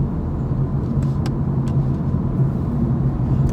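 Steady interior road noise of a car being driven, a continuous low rumble of engine and tyres that stays even throughout, with faint higher clicks and no talking.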